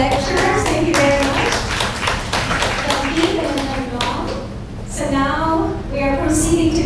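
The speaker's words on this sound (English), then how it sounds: "please give a round of applause to our lecturers" Audience claps for lecturers at a design school event, a brief patter of hands heard under and between someone speaking over a microphone.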